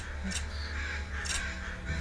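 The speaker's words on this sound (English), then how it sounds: "The bird seems upset at the sky." A bird in a video game caws twice, harsh and fairly close, over a steady low game background hum, with no talk.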